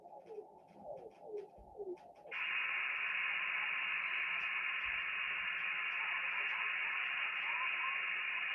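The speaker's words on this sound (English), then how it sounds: "So I see some activity on a single sideband on 160 meters." Shortwave receiver tuned to single sideband activity on the 160 meter band: faint warbling tones at first, then a sudden jump to loud, steady hiss and static that fills the rest of the stretch.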